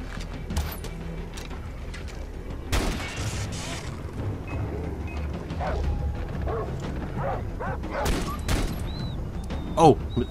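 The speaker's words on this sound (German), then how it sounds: "Oh, mit einem Schuss beide erledigt." Gunfire in the Far Cry 3 video game during a bear hunt: a sharp shot cracks out amid game ambience, with other brief bangs and someone talking over it.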